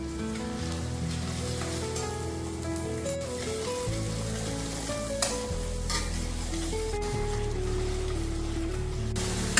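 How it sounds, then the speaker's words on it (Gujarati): Onions and garlic chutney sauté together in a pan for a Kathiyawadi thali, a continuous sizzle broken by scraping stirs, with background music playing underneath the whole time. "હવે આપણે જે લસણની ચટણી બનાવી છે એ બી આમાં એડ કરી દઈશું કે સાથે બધું સોતળાઈ જાય."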